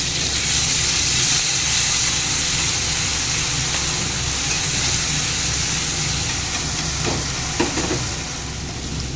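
Tomato and green chilli hit onions already fried red in a hot pan and sizzle loudly and continuously, a dense steady hiss with a few faint stirring clinks near the end.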